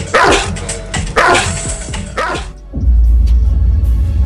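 Dog barks in loud bursts, roughly three close barking volleys in the first two and a half seconds, followed by a low rumbling noise with no barking.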